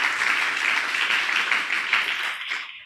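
A church congregation at a ministers' retreat claps their hands together in a brisk, continuous burst that lasts a few seconds, then stops abruptly.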